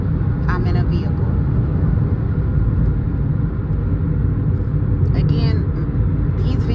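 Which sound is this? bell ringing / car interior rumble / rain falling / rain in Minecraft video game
car interior rumble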